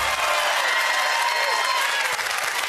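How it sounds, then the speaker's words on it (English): Studio audience applause on the Deal or No Deal UK game show, a steady dense wash of clapping that holds loud and even throughout without letting up. "let them stop clapping"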